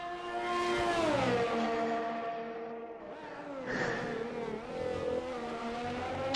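A Formula 1 car engine heard onboard in a sim racing game at the Azerbaijan Grand Prix: a loud, continuous high-pitched whine that rises and falls through gear changes, with a dip around mid-sector braking.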